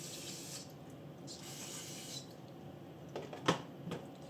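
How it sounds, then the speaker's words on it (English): Carburetor cleaner sprays with a hissing sound in short bursts, close by, into a 1992 Sears Gamefisher 3.0 outboard motor carburetor, with a brief louder clatter near the end. "so I'm gonna go ahead and spray it out a little bit more with carb cleaner"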